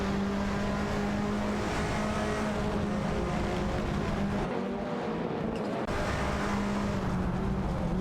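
In a racing video game, a Honda Civic FA and an Audi TT Cup race together, their engines droning loudly and continuously with rising and falling revs and a steady high-pitched whine, with no voices.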